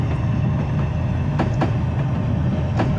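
A Metro-North M3A commuter train in Train Simulator 2020 runs along the Harlem Line, with a steady low rumble and periodic sharp rail clicks, close and continuous, with no voices.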